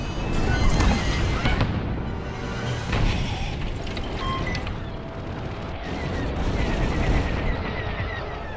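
Starfighters in the Star Wars Squadrons video game open fire during a close dogfight, a dense, continuous barrage of rapid laser blasts and mechanical rattling over engine roar, with several sharper volleys standing out.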